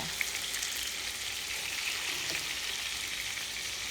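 Naem, Thai fermented pork sausage, frying in hot oil with a steady, close, even sizzle that carries on without a break.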